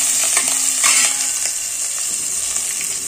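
Green chillies and peanuts fry in oil in a pan for upma, giving a close, continuous sizzle and crackle with occasional scraping stirs, and no voices.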